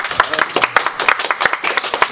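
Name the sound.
audience applause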